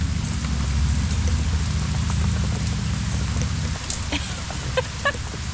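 Steady rain hisses over a motorcycle ride, with a low engine rumble and wind noise underneath, fairly loud and continuous throughout.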